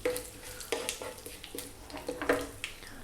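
Dried red chili and fresh curry leaves sizzle in hot oil with soft, crackling bursts and scraping stirs repeating irregularly, fairly quiet and close.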